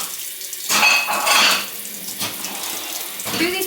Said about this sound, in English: just going to do these pots